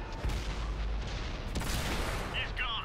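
Gunfire in the Type 58 video game, dense booming shots and rumbling explosions filling the scene continuously, with brief voice fragments near the end.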